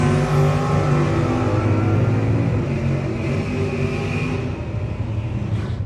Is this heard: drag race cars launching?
yes